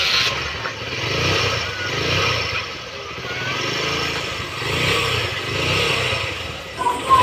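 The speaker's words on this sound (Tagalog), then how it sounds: "subukan natin itong pandarin kung nawawala na ba ang kanyang lagutok" A Honda XR 150 motorcycle engine, freshly overhauled to cure a knocking fault, idles and runs steadily nearby with a continuous mechanical drone that swells and eases slightly, with no voices.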